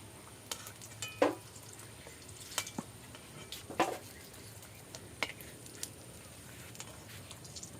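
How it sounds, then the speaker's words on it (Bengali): Samosas frying in hot oil, a soft steady sizzle with scattered clinks and scrapes of a utensil against the pan. "এবার আমি বাকি সিঙ্গারাগুলো দিয়ে দেবো তেলে।"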